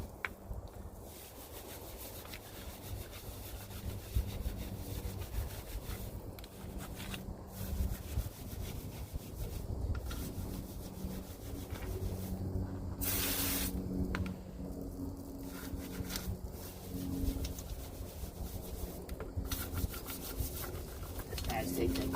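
A brush scrubs brake rotor dust off a Camaro SS wheel, a steady rough rubbing and scraping that continues throughout at moderate loudness, with short bursts of hiss or spray.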